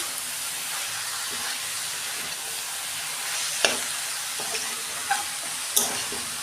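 Shredded cabbage sautéed with spices in a pan gives a steady close sizzle and hiss, with a few sharp spatula scrapes and clinks near the end.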